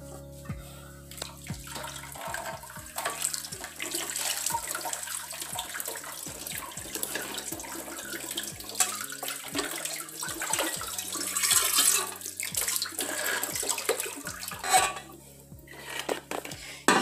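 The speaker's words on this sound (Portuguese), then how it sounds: "agora eu vou lavar" Pans washed under a running tap after polishing with a homemade shine paste: steady splashing water with frequent clanks and scrapes of metal cookware, fairly close and continuous for the whole stretch, with no talking.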